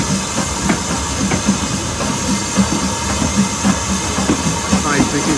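A steam train on the Great Central Railway pulling into Loughborough station, with a steady hiss and a low, rumbling roll of wheels and carriages beneath faint clicking, heard close and continuous throughout.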